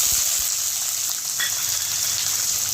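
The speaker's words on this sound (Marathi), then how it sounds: "कांदा थोडं परतून घ्या" Chopped onion sizzles in hot oil in a pan with peanuts while making tempered vermicelli, a steady, fairly loud frying hiss with no speech.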